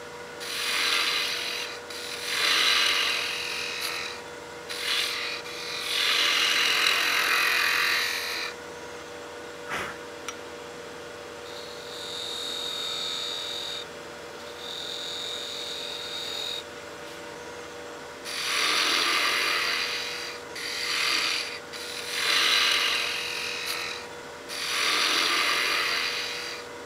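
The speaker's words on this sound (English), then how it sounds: "So just using the 3/8 spindle gouge." A 3/8 spindle gouge cuts a spinning wooden baby rattle on a lathe, giving recurring bursts of hissing, scraping cuts over a steady motor hum, close and moderately loud with short pauses between passes.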